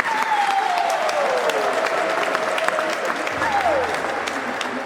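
Wedding guests applauding after a marriage ceremony in Amiens, steady sustained clapping with voices and a gliding tone over it, and a low hum entering near the end.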